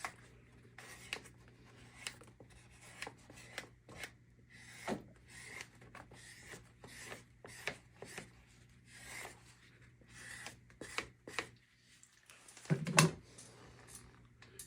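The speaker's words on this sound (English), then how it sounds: "And I'll just strop this thing." A draw knife blade is stropped in a series of short, quiet rubbing strokes with a steady rhythm, ending in a slightly louder scrape.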